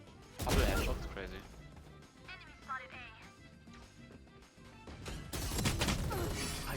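Gunfire in a shooter video game, a few sharp loud shots near the start and a burst of shooting toward the end, with players talking over the action in between.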